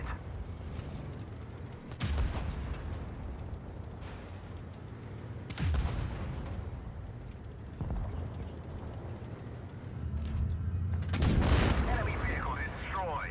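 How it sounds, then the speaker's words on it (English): Tank cannon shots land on enemy armor in World of Tanks Blitz, sharp booming bursts spaced a few seconds apart, with a heavier rumbling blast near the end, all fairly loud over steady in-game background noise. "We've damaged them. Enemy armor is hit."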